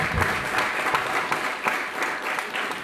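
An audience at a film festival event held at Hansraj College claps steadily, a dense, sustained round of applause filling the room without pause.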